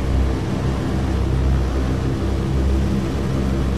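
Engines of a PBY-5A Catalina flying boat in Microsoft Flight Simulator, running up to a steady, loud, dense propeller roar with a deep rumbling drone that never lets up.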